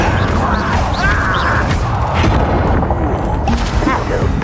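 Casting the Incendio fire spell in Hogwarts Legacy produces a loud, dense roar of fiery blasts and crackling game effects that fills the whole moment without pause.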